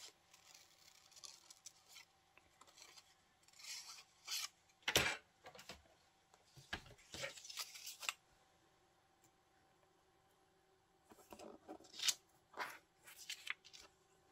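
Scissors cutting paper for a crossword puzzle collage, close, quiet snips and rustling paper in irregular bursts separated by pauses.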